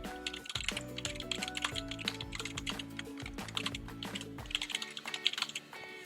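Rapid, steady keystrokes on a keyboard as an email address is entered, close and distinct over faint background music, ending in a few scattered taps.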